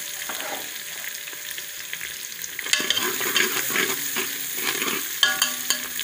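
Onion with ginger-garlic paste frying in a pan while being stirred, a steady close sizzle with scraping and clinking stirring strokes growing busier toward the end, no talking.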